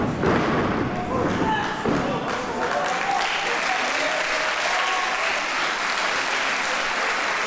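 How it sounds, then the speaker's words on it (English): Crowd at a Femmes Fatales women's wrestling championship match applauds in a sustained wash of clapping. A few thuds from the ring come early, and a commentator talks over the applause. "Crowd showing their appreciation."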